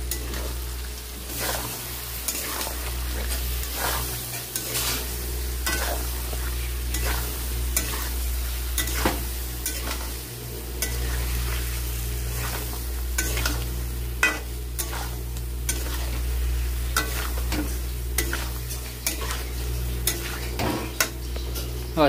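Stirring a frying potato and pointed gourd mustard curry in a pan, a steady, close sizzle broken by repeated scraping clicks of a utensil against the pan in an uneven rhythm, with no speech.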